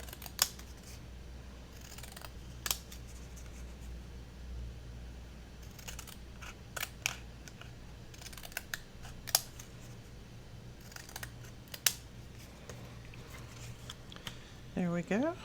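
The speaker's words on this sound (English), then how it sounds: "Grab my scissors." Scissors snip paper to trim a junk journal cover piece into a postage-stamp shape, giving scattered sharp cuts at an irregular pace over a low steady background hum.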